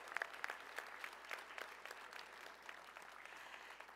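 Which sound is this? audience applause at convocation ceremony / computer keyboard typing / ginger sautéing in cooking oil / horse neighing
audience applause at convocation ceremony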